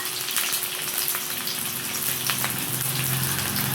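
Onions and green chillies fry in oil in a kadai, a loud dense sizzle that roars steadily and close throughout without a break.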